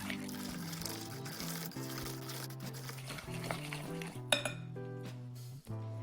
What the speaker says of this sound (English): place the yolks into the butter and sugar mixture. Stir them.